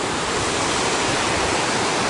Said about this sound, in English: Big falls. Over 500 feet.